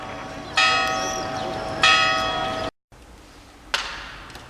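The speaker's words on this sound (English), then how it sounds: "I wanted to catch the bells for you" Church bells ring in Salamanca, Spain, with three loud resonant strikes, each humming and slowly fading, the last after a brief cut, heard outdoors against a low street background.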